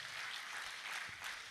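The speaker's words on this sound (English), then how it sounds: "Please, let's keep clapping since she's up." An audience claps steadily in a continuous, dense wash of applause as a speaker is welcomed onto the stage at an automation festival in Lagos, Nigeria.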